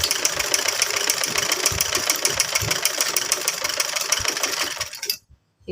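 A sewing machine stitches a sleeve seam on fabric, running steadily with a fast, even mechanical rattle close by for about five seconds before stopping abruptly.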